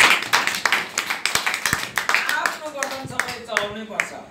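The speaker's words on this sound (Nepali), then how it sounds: "कति राम्रो वरदान उहाँको लागि ताली बजाउनु त।" Church congregation clapping together, a run of sharp, fairly close claps with a steady rhythm, and voices talking and singing over and under them.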